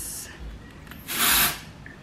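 Dry shampoo sprayed from an aerosol can into oily hair, one short hissing burst of about half a second, close and fairly loud after a fainter brief spray at the start.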